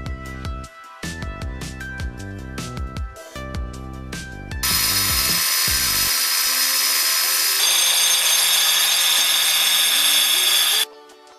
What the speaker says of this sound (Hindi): ये है हमारा मार्बल का स्लैब जिसे हमने ग्राइंड करके फिनिश कर दिया है।